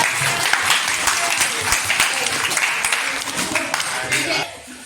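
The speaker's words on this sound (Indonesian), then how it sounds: "Ya, bagus. Tepuk tangan." A classroom of students claps together in a dense, loud burst that runs steadily for several seconds before cutting off abruptly near the end.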